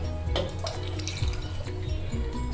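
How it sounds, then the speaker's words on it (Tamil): Water streams and splashes into a pot of vegetable soup for shahi paneer, a steady close pour with light gurgling and dripping and no talking. "ஸோ இப்போ வேணுங்கிற அளவு தண்ணி மட்டும் விட்டுக்கலாம்."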